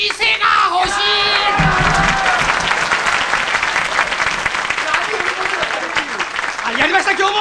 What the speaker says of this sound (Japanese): でも すごい拍手じゃねえか